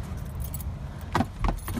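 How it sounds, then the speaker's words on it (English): Keys jingle and clink close by inside a car, a short metallic rattle in two quick bursts over a steady low engine rumble, with no talking. "Oh, gonna need those keys there."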